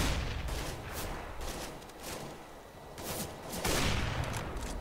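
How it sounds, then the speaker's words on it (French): Gunfire in the video game CS:GO, a dense, continuous fusillade of rapid shots and bursts rising and falling in loudness, with no voices heard. "Je me demandais d'où venaient les tirs."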